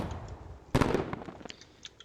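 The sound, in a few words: mortar shells hitting Godry in a military video game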